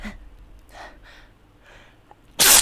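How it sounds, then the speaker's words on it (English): A single loud, close sneeze from a young man, bursting out sharply near the end after a few soft breaths and sniffs. "If I sneeze once, I can't stop sneezing."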